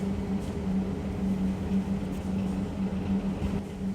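A train pulls into a station in Malaysia, a steady low rumble and hum with faint rattling that holds evenly, moderately loud and fairly close, with no voices.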